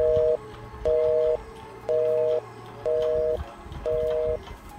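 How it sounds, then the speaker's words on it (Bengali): A telephone line going dead after a call, leaving a mechanical tone that sounds as five even, steady beeps with short gaps between them, fairly clear over a low background hum. "একটা যান্ত্রিক শব্দ করেই কেটে যায় লাইনটা।"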